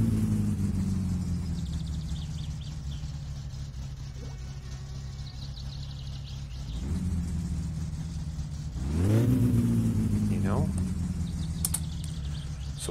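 The car engine in My Summer Car starts up and keeps running, a steady low rumble that swells and revs briefly near the end, with a voice talking quietly underneath.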